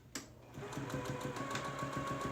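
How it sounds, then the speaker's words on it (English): After a click, a sewing machine starts up and stitches in a fast, steady mechanical rhythm, close and continuous. "I'm going to take this to my sewing machine, back stitch"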